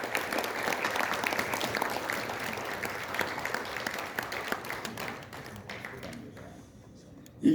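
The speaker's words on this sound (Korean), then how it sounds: "큰 박수 부탁드립니다" A seated audience at a formal national commemoration and awards ceremony gives a dense round of applause that carries steadily, then tapers and thins out, ending with a sharp thump.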